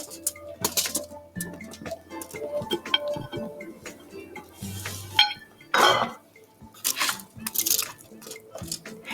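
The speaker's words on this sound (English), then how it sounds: "Spread the vegetables in a single layer on the prepared pan." Vegetables are spread in a single layer across a prepared baking pan, with sparse, uneven clinks and light scrapes of metal and food shifting on the tray between quiet gaps.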